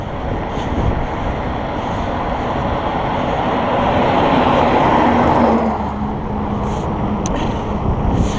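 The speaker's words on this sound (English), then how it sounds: "just wait for this dump truck to go by" A dump truck rumbles past with a loud, broad roar that swells to a peak and then fades slightly, continuous throughout.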